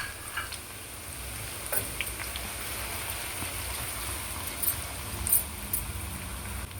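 Green chillies and chopped onions sizzling in hot oil in a pan, a steady, fairly quiet crackle and hiss with occasional sharper pops.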